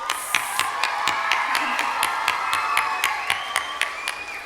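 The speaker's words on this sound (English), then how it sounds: "Let's give another big round of applause for Falu and her friends." Audience at a children's music concert applauds, with sharp individual claps cutting through a steady bed of clapping, near and fairly loud, some voices mixed in.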